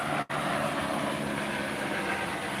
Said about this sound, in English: let the helicopter fly on over